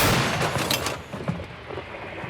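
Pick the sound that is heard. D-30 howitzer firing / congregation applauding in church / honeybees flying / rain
D-30 howitzer firing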